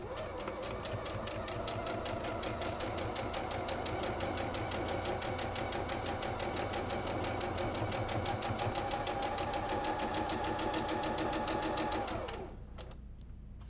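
Sewing machine stitching a sawtooth star quilt block, running in one steady, continuous whir of rapid stitches for about twelve seconds before stopping.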